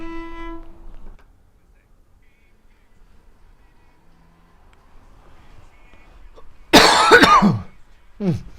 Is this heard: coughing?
yes